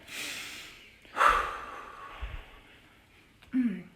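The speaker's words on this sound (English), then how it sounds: "one more deep breath while we're doing it" Slow, close breathing: a long inhale through the nose followed by a soft sigh-like exhale, then a short snorting breath at the end, with no talk.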